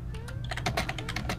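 Rapid, vigorous typing on a computer keyboard, a quick burst of sharp, close key clicks tapping in an uneven rhythm over a low background hum.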